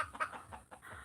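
A chicken clucks in a short run of soft, fairly faint calls, several quick clucks close together in a brief burst.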